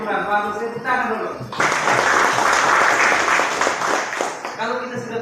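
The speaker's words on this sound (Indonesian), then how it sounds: "Bagus, tepuk tangan dulu." A classroom of students bursts into applause on cue during an Indonesian language lesson, steady clapping from many hands lasting a few seconds, with the teacher's voice before and after.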